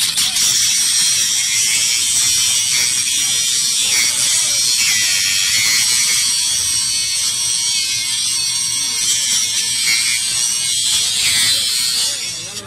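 A door lock at union-occupied office buildings being forced open, a loud, continuous buzzing mechanical grinding that runs steadily through the whole stretch with no voices.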